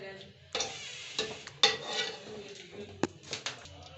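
Green cardamom pods tossed and stirred as they lightly roast in a pan, quiet scattered clinks and scrapes of the utensil against metal over a faint background hiss.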